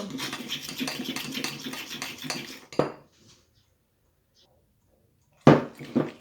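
A chocolate mixture for dalgona chocolate is whisked briskly in a bowl, a dense, rapid scraping rhythm for a few seconds. It ends in a clink, then silence, then another sharp clatter of utensil against the bowl.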